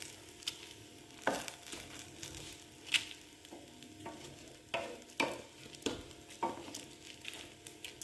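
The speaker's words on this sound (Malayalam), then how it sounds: "ഇത് നമുക്ക് സാവധാനം ഒന്നിങ്ങനെ ചെറിയ ചൂടിലൊന്നും ഇങ്ങനെ ഇതുപോലെ ഒന്ന് ഇളക്കിയെടുക്കാം" Prawn rice with bay leaves being stirred slowly over low heat: soft scraping stir strokes in an irregular rhythm over a gentle, steady sizzle, close and fairly quiet, with no talking.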